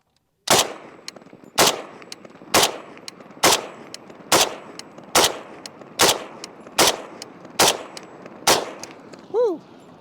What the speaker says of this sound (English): this is gonna be the final mag through the Dragunov